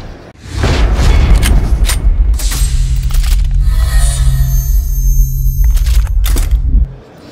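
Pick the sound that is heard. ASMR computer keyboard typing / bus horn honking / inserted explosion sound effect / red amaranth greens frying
inserted explosion sound effect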